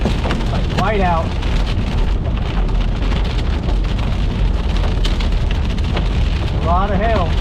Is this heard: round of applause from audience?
no